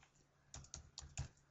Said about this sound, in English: And type in